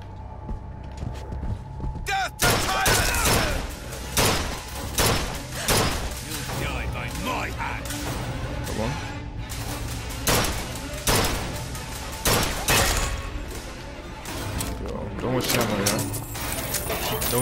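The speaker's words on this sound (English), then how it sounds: "Oh, it's a machine gun." Machine gun fire in the Bioshock Infinite video game, loud rattling bursts of automatic shots repeating through the clip amid game noise, with a person talking over it.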